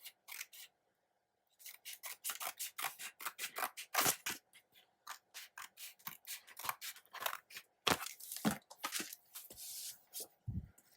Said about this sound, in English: Cut the tops of these little things off, and then I gotta cut this off.